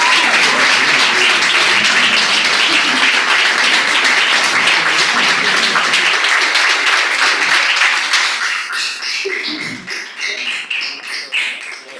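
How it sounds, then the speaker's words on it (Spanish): An audience at a national grand final of a debating competition applauds loudly, a dense wall of clapping that thins into scattered claps toward the end. "Vamos a darles un fuerte aplauso"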